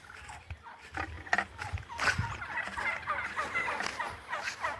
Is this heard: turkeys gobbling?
yes